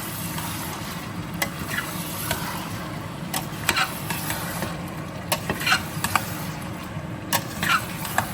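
Prawns coated in masala are shaken and tossed in a pot, making a steady low rumble with scattered clinks and scrapes throughout, and nobody talks.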